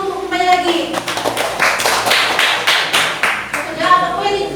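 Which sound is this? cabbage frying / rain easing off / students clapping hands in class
students clapping hands in class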